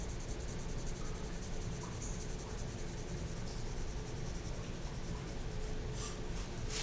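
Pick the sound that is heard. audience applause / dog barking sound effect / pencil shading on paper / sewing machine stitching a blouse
pencil shading on paper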